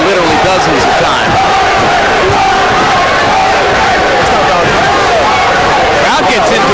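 Boxing crowd at a Pernell Whitaker vs Andrey Pestryayev fight roars steadily as the 12th round opens, a dense, sustained wash of voices and cheers with a commentator talking over it.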